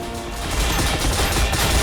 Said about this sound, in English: no way could he survive a barrage from 5 riptides at once